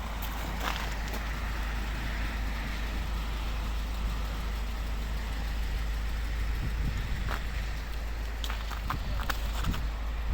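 A Mercedes B170 with a 1.7 petrol engine and automatic gearbox, 2007, idles steadily and quietly outdoors on a frosty cold day, a low even hum running throughout with a few faint knocks.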